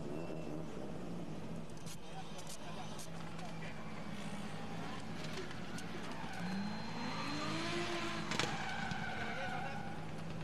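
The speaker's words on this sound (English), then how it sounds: "Drivers are up on the line. Let's see what Onzai can do out in front." Drift cars run a tandem battle at a National Drift Series round in Borneo, with distant engine roar and tire squeal blending into a faint, steady background beneath loud commentary.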